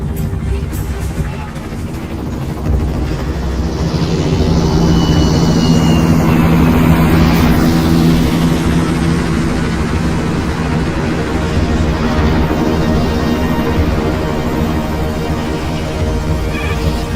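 A steady, loud low-pitched engine drone from an attack helicopter, the kind classed as a tank killer, holding evenly throughout with faint voices mixed underneath.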